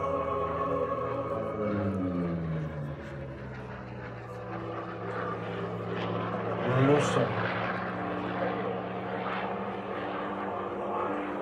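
A propeller aircraft passes overhead at the 2017 La Ferté-Alais air show, a steady, loud engine drone with a hum that holds throughout and swells briefly about two-thirds of the way in.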